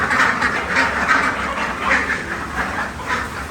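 A flock of grown ducks on a farm quacks in a rapid, repeating chorus, loud and close, with the calls overlapping in steady rhythmic bursts.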